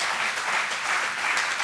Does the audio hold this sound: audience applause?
yes